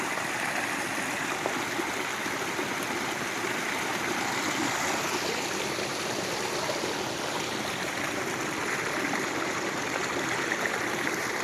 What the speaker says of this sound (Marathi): त्याच्यातून पाणी चालू आहे जास्त प्रमाणात पाणी निघल्यावर त्याची शेती काही सुद्धा राहणार नाही